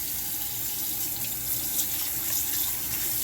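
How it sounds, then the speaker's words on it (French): Tap water runs steadily into a sink while a microfibre cloth is wetted, a close, constant hissing splash with no voices. "je vais mouiller mon linge."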